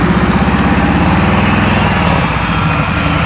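A motorcycle engine runs at low RPM, a steady, loud, close rumble with rapid regular firing pulses throughout, no talking.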